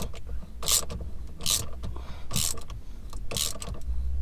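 A ratchet tightens the steering wheel bolt on a Mini R56 in four close, regular bursts of rapid clicking about a second apart, with no talking.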